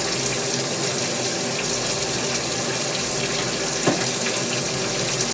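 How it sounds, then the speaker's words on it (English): Running tap water rinsing dyed copper hair in a sink, a steady loud rushing gush with occasional splashy variation, close and continuous throughout. "so let's go ahead and rinse this out."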